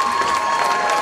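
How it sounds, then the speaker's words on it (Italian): A crowd at a rock band's live show applauding and cheering, a dense, loud wash of clapping and shouts filling the space. "C'è anche Dado, artista di Zeli, con un applauso, facciamoli sentire il calore jersese."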